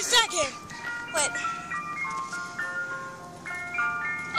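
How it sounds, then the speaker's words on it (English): An ice cream truck plays its tinkling melodic jingle, clear and fairly loud, while people talk over it. "everyone looked at the ice cream truck and wished they could buy ice cream"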